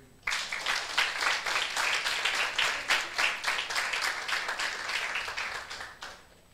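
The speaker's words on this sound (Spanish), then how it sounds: "Denle un aplauso" Applause from a church congregation fills the room for about six seconds, a dense, steady clapping that starts abruptly and fades near the end.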